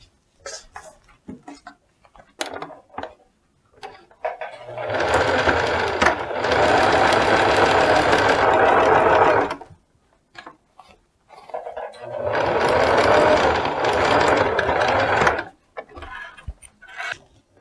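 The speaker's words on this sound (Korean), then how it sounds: "자르지 않고 먼저 그려놓은 부분에 박음질을 해줍니다." A sewing machine runs in two long, steady bursts, stitching a dress along a pre-drawn line on fabric, with brief quiet handling pauses around each run.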